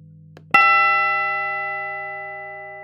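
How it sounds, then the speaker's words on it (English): A synthesized high-pitched bell tone built by additive synthesis in the Web Audio API rings once with a sharp strike, then holds a bright stack of steady partials that fades slowly, heard alone. "That's additive synthesis for working with bell sounds."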